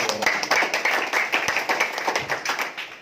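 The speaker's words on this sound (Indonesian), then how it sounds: "Aplaus dulu sekali lagi." An audience at an Indonesian seminar claps in a dense, steady burst of applause lasting several seconds, close and loud, with no talking over it.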